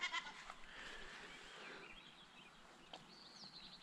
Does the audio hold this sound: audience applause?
no